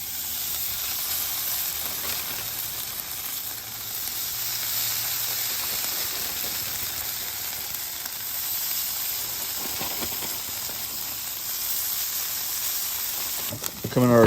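Hash browns sizzle on a Weber Slate griddle heated to about 400 to 425 degrees, a steady close hiss that holds for the whole span with little change, ending with a brief louder rustle.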